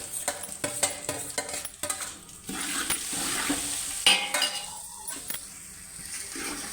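Boiled potatoes are stirred and mixed in a cooking pan, with a rhythmic series of spatula scrapes and knocks against the metal over a low background sizzle, no talking.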